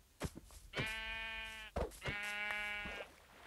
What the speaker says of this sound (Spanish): Aquí hay otra oveja, hay que aprovechar.